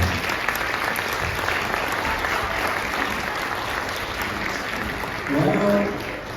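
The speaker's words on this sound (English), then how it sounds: "you should be giving a round of applause as we go along" Audience applause at a school Grandparents' Day event, a steady broadband wash of many hands clapping throughout, with a brief voice rising near the end.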